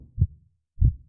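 Heartbeat sound effect: two deep, muffled thumps spaced about 0.6 seconds apart, isolated against silence.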